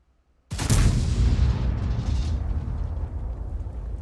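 A tank cannon fires a blind shot at a Batchat in World of Tanks: one sudden, loud, close boom that trails off into a long rumbling roar, with no voices.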